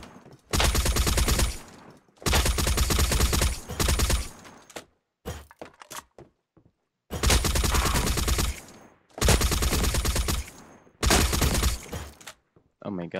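Heavy gunfire from the shooter game Badlanders crashes out in long, loud sustained bursts on a training ground, separated by brief quiet gaps with a few scattered single shots in between.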